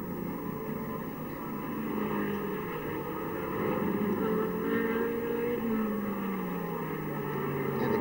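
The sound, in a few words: 1968 sports racing car accelerating and braking on circuit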